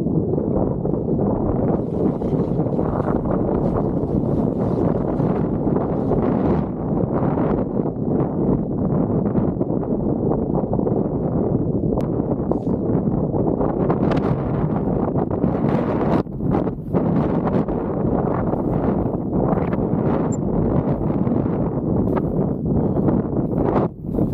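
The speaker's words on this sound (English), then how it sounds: "Trees are blowing." Stormy wind roars through trees on a snowy mountain during snowboarding, a constant loud rushing gust with heavy buffeting against the microphone and some rustling, lasting throughout with no clear talk.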